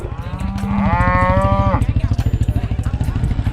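Cows moo from close by with a long, loud, wavering low call, heard over a steady rumbling motorcycle engine on a dirt trail, with voices around it.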